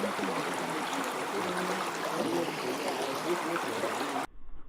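Steep Creek, a small Alaskan salmon-spawning stream, flows in a steady close rushing and gurgling wash of shallow water that stops abruptly near the end.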